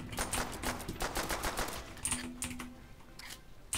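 Rapid MG42 machine gun fire in Call of Duty: World at War multiplayer, a fast rattling stream of shots in dense bursts, loud and close, tapering toward the end.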